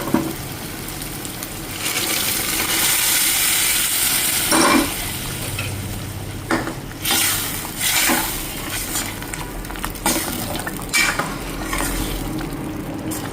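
Boiled chana dal is stirred in a pot after a hot tempering is added, with a spoon scraping and clanking against the metal over a low sizzle, close and repeated in irregular strokes.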